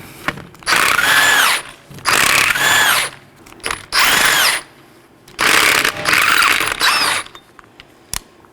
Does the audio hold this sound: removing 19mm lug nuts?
yes